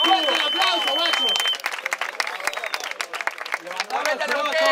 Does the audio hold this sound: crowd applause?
yes